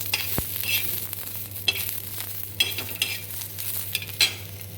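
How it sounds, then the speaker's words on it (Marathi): Garlic and cumin roast with gentle sizzling in a pan, with repeated scraping strokes of a spatula at an unhurried pace, close by and with no voices. "लसूण थोडंसं भाजून घ्यायचं आहे"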